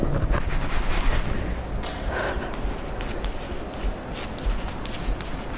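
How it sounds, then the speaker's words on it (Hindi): Chalk or pen scratches steadily across a board or paper in a physics class, a dry continuous rubbing that runs beneath a man's spoken explanation. "जो दिया है उसको एक बार लिख लेते हैं।"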